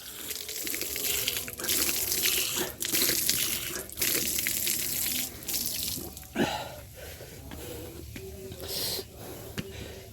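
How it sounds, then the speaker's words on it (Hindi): Water gushes steadily from a tap and spring-like stream at a temple site, a continuous close splashing flow with brief breaks and a few trickling drips, and no voices. "ये नल चल रहा है ना, झरना"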